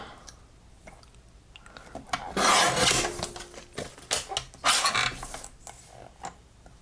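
Paper being trimmed at a craft table, heard as two rough, rasping scrapes of a paper trimmer separated by scattered light handling clicks, fairly close and without talk.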